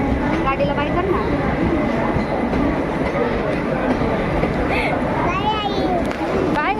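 Train rumbling past a railway station platform, a continuous loud roar with squeals and clanks, while voices talk nearby.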